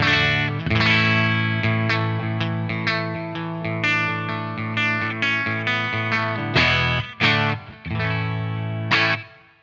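Electric guitar with single-coil pickups in standard tuning, played through an amp on a clean setting with slight grit, ringing out sustained strummed chords and picked notes that decay between strokes, loud and alone without talk.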